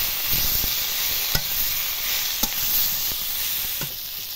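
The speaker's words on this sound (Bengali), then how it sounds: "এবার ভেজে রাখা পটল দিয়ে দেব।" Fried pointed gourd (potol) stir-fried in spice masala in a pan, a continuous hissing sizzle with occasional clicks and scrapes of a spatula, close and moderately loud.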